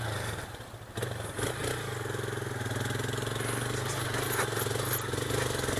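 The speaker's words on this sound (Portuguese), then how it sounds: "Tá devagar que eu não quero zoar a moto" A Honda Titan 160 motorcycle rides a dirt trail at low speed, its engine a steady, close mid-pitched drone with a slight dip near the start and constant rumble throughout, no talk over it.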